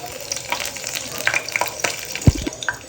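Whole cardamom, cinnamon and bay leaf sizzle in hot mustard and soybean oil, a close crackling fry with quick spattering pops and one heavier knock near the end.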